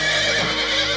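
A spirited racehorse gives a loud, clear neigh up close, the whinny rising and falling over about a second with faint hoof clatter around it.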